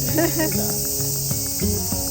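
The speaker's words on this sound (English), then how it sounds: "You can hear the cicadas. They're singing the song of their people. It's so loud." Cicadas singing loudly on a hot summer day in Japan, a dense continuous high buzzing drone filling the air, with faint background sounds beneath.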